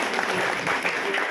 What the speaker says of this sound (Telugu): ఈ అమ్మాయికి ఒక్క విషయంలో ముందు చప్పట్లు కొట్టాలి